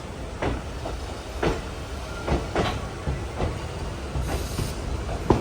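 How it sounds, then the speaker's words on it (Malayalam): The Coimbatore Intercity Express pulls out of Mangaluru Central railway station, its wheels giving a steady run of rhythmic clacks and thumps over a constant rolling rumble, heard close from on board with no talk. "11:05 തന്നെ Coimbatore intercity express Mangalapuram central railway സ്റ്റേഷനിൽ എടുത്തിരിക്കുകയാണ്"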